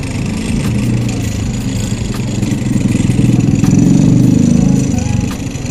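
An eight-month-old Yamaha Aerox scooter engine, just repaired after rat-chewed wiring was spliced, runs close with a steady throbbing idle that swells slightly in the middle before easing back.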